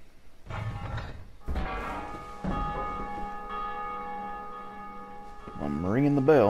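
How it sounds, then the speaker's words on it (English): A large bell in Dark Souls II rings out in several resonant strikes, each leaving a long ringing decay, with a rising mechanical or voice-like sweep near the end. "I'm ringing the bell."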